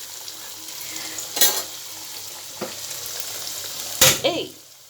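Food frying a little at a time in a home kitchen pan, a steady sizzle with sharp utensil clinks and stirring scrapes, close by and fairly loud.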